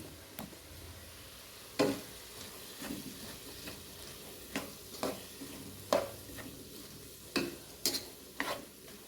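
Mixed vegetable thoran with coconut cooks in a pan under a faint low sizzle, punctuated by a dozen or so distinct scraping and tapping strokes of a spoon as it gets stirred, close by with no voices.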